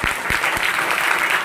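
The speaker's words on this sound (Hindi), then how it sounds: "ताली बजाओ इनके लिए" Congregation at a church service clapping together, loud and close, a dense steady burst of applause with a few sharper hand claps standing out at the start.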